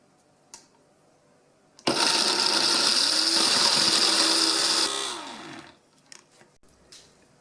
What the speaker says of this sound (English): Add all of the other dry ingredients to the food processor.